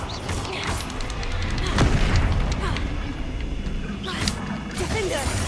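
Confringo fire blast spell cast in the Hogwarts Legacy video game, a loud booming explosive burst amid continuous crashing combat noise, with further blasts later in the sequence.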